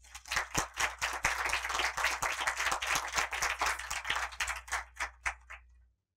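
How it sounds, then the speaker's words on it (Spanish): A small audience applauds at a scientific symposium on cognition in reptiles, with distinct individual hand claps, moderately faint, that build steadily and then taper off alone. "Un aplauso, por favor."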